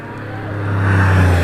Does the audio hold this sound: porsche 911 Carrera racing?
yes